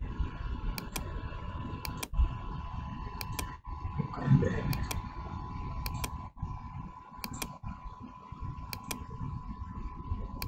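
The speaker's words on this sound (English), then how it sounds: "I click on them." Sharp computer mouse clicks come at irregular intervals, soft and close, while drawing columns in structural design software. A low steady hum runs underneath and a few faint speech-like sounds occur.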